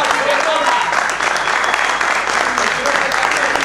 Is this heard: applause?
yes